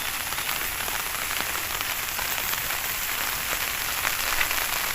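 Steady rain patters densely on a surface in an okra garden, a continuous close hiss with scattered drops and no pause.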